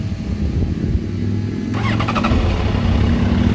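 A warm 2009 Yamaha FZ1N motorcycle engine cranks and catches midway, then settles into a loud, close, rumbling idle with a rapid rattling chug.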